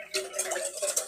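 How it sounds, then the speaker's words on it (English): Whisk stirring a mixture seasoned with a pinch of salt in a bowl, producing a steady run of light, close scraping and clinking strokes with no talk over it. "And just whisk it up."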